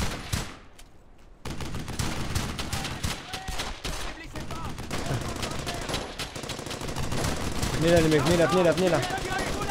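Rapid machine gun bursts and scattered rifle shots crackle almost continuously in the World War II shooter Brothers in Arms: Hell's Highway, under someone shouting in French.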